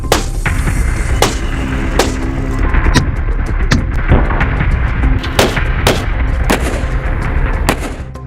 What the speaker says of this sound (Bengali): শেখ হাসিনার একই মডেলের মার্সিডিজ গাড়িতে পরীক্ষামূলকভাবে গুলি করার একটি ভিডিও